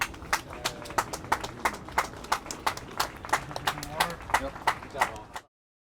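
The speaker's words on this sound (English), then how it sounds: "let's give them all a round of applause" Audience applause for special forces jumpers at a military operations demonstration, dense clapping with sharp individual claps rising and falling for about five seconds before cutting off.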